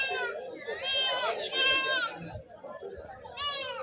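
Several goats bleat in loud overlapping bursts at a busy livestock market in Galiveedu, with traders' voices talking and bargaining underneath throughout.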